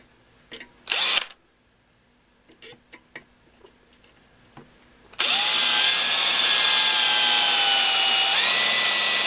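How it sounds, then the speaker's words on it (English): After a few faint clicks and a short buzz, a power drill bores a pilot hole for the ski bolts on a snowmobile sleigh, running loud and steady for several seconds, its pitch dropping slightly near the end. "I'm going to drill a pilot hole before I go and drill a size larger to fit the bolts for the skis."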